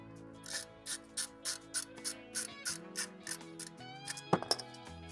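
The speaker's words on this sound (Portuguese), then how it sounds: "Se não sair com a mão, você tenta com a catraquinha até o final." Ratchet wrench loosening a bolt on a Royal Enfield Continental GT 650, a close series of about ten evenly spaced clicking ratchet strokes, followed by a couple of sharper metallic clicks near the end, with no talk.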